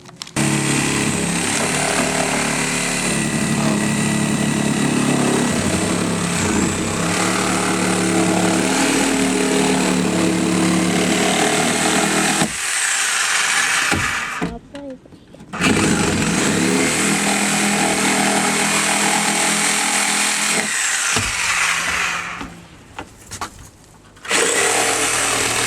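A loud power tool whines and bites while cutting out a stringer in a Sea Ray 220 BR boat under restoration, running steadily in long bursts with two brief pauses and a tapering stop near the end.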